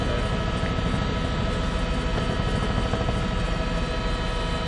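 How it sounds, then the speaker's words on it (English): A law enforcement helicopter flying overhead during a police chase in Houston, its loud, steady rotor thump and engine drone filling the whole stretch with no voices. "they may be being directed by the law enforcement helicopter that's up here with us"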